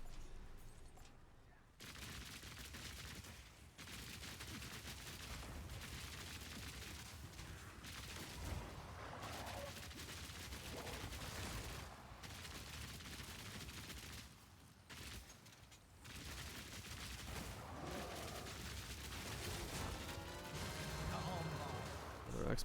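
Tommy gun fire in a video game, dense bursts of shots rolling on nearly nonstop under a steady wash of game noise, with a player talking over it throughout.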